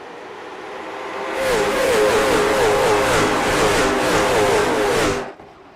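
Late model race cars accelerating together off the green flag in iRacing at Kern Raceway, a loud sustained roar of multiple engines revving up with pitch sweeps, rising suddenly after a quiet start and cutting off near the end.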